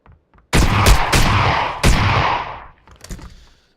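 Rapid bursts from an automatic shotgun in a video game, several loud booming shots in quick succession with a rolling tail that fades out, followed by a couple of softer trailing reports.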